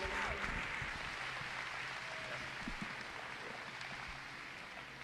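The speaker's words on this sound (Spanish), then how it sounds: "Vamos a recibirlo con un aplauso en el Señor." Steady applause from a church congregation fills the space, a dense even patter of many hands clapping at moderate volume with no voices above it.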